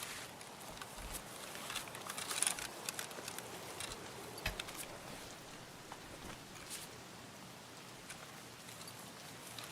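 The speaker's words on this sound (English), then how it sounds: "The rain's really fucking with me here." Rain falls in the Escape from Tarkov video game, a quiet, steady hiss of drops with scattered louder taps and occasional soft thumps, no talking.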